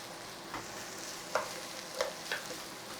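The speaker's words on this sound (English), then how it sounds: "The sugar's going to help caramelize the onions." Onions with sugar caramelize in a skillet, producing a faint, steady sizzle broken by a few soft stirring scrapes, quiet and close with no talking.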